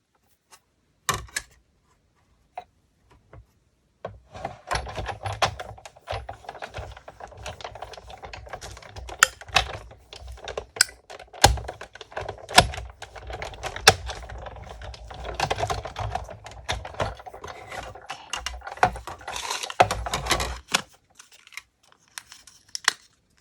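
Thin aluminium drink can being cut into pieces for junk journal crafting, a long run of close, crisp snipping, crinkling and scraping sounds with short pauses, quiet and steady with no talking.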